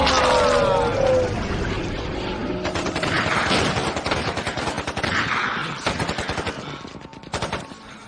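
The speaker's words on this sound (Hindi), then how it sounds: "रुकना मत, वहीं पर फायर करते रहो।" Rapid bursts of machine-gun fire in a dubbed horror film, dense loud volleys that continue over several seconds with whistling and mechanical clatter, and brief shouted voices mixed in.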